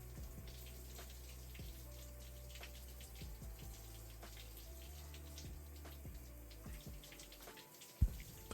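Shower water runs steadily over a beard being rinsed, a continuous hiss of spray with a low hum beneath and a few faint knocks, ending in a brief louder bump.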